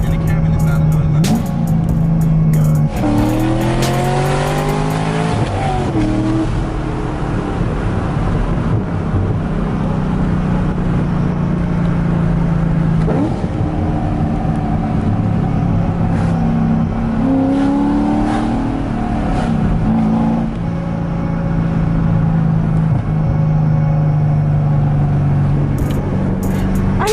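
Car exhaust fitted with headers and an X-pipe, heard from inside with the engine revving up and settling in repeated rising and falling swells, a steady low rumble underneath and some wind noise.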